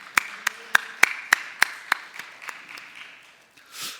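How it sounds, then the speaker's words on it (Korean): A church congregation claps in unison, about ten evenly spaced claps that gradually soften and fade out, followed by a brief rustle. "우리 신실하신 하나님께 영광의 박수 올려드리겠습니다"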